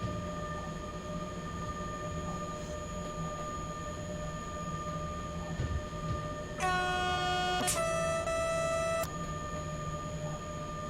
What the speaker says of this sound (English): Sounded the horn at the right moment.